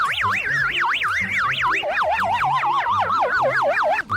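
A loud, close ambulance siren wails in rapid rising and falling sweeps, continuing steadily throughout with no voices.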